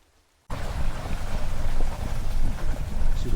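Rain falling outdoors at Penrhyn Castle near Bangor, Wales: a steady, dense hiss begins abruptly after a brief silence and continues evenly at close range, with no voices.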